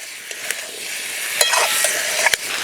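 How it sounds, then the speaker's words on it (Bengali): Malabar spinach stalks are stirred among mixed vegetables in a frying pan for a coconut-paste vegetable curry: a steady close sizzle runs throughout, broken by a few sharp spoon scrapes and clacks against the pan. "পুঁই শাকের ডাঁটা দিয়ে একটু নাড়াচাড়া করে নিলাম।"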